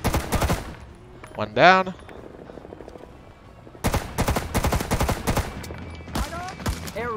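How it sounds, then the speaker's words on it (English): M1 Garand and M2 Carbine fire rattles in the video game Rising Storm 2 as several bursts of close gunshots, separated by a quieter stretch. Someone speaks briefly in between. "that's the M1 Garand and the M2 Carbine"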